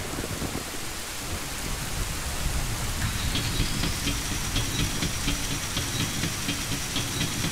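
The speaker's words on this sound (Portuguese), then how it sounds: "Parece que vai chover." Steady heavy rain pours throughout in The Legend of Zelda: Ocarina of Time, with rumbling thunder rolling in the background; no voices.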